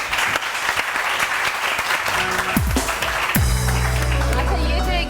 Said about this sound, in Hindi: अगर शौक है तो तालियां बजाइए